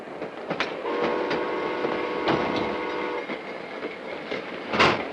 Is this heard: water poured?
no